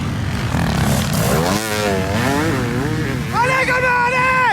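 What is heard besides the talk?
500 CR motocross bike engine crackling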